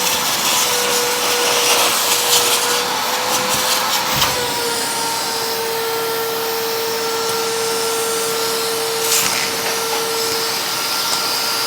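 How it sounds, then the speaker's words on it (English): Shop vac running steadily to suck debris out of a pebble stone tile shower under repair, a loud continuous whine with a steady tone, a brief dip near four seconds, no talking. "let's get our shop vac and start cleaning out this entire area"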